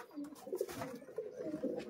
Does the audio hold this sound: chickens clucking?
no